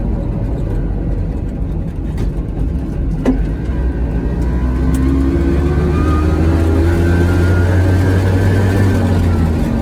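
A Piaggio Ape 50 three-wheeler drives along a road, its small engine droning loudly and close, the pitch climbing steadily as it accelerates, with traffic noise around it.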